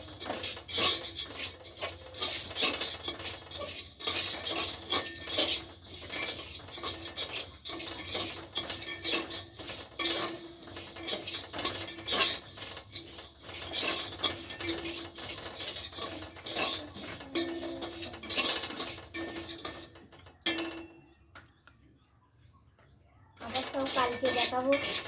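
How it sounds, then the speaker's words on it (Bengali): Dal is fried and stirred in a pot, with repeated metal scraping and clinking of a utensil against the pot in a steady rhythm, a soft background sizzle, and a brief quiet pause near the end. "ডালটা আমি সবটা একটু ভেজে নেবো, তাতে খাবারটা টেস্ট হয়।"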